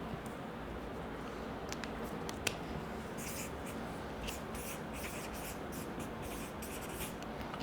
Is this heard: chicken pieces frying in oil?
no